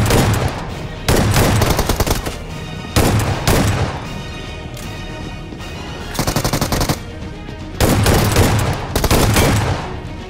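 Shotgun gunfire in the BGMI battle royale during an apartment fight, loud bursts of blasts in several clustered volleys separated by short pauses, with no talking.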